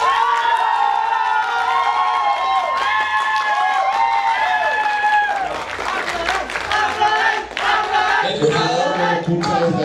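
A drag show audience bursts into applause and cheering, with shouts and whoops mixed into steady clapping that grows louder and rowdier toward the end, alongside voices.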